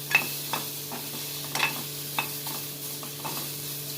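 A spoon stirs a tempering mixture in a hot pan, sounding as a series of quiet scrapes and taps roughly every half second over a faint sizzle and a steady low hum.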